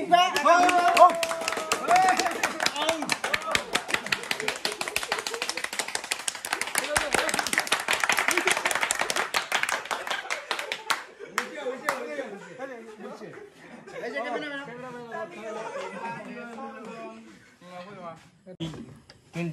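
Hands clap in a quick rhythmic burst with laughter and chatter at a 20K subscriber cake-cutting celebration, the clapping fading after about ten seconds as people keep talking.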